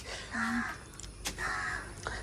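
Two drawn-out, harsh crow caws, a pause between them, over faint background noise and a brief sharp knock.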